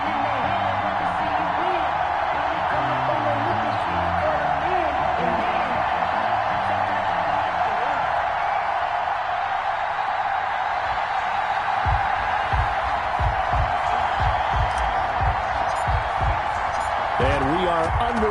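A sold-out stadium crowd in Buffalo roars as the Bills take the field to face the Los Angeles Chargers, a dense, continuous wash of distant cheering beneath a commentator's voice.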